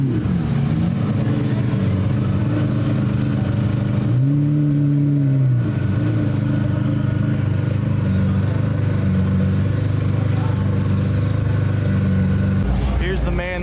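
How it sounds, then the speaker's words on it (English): A Toyota Supra's turbocharged engine drones steadily throughout with rising and falling revs during a drive at an exotic car rally, with a brief tonal swell near the start and people talking over it. "Let's see if we can get these turbo sounds for y'all."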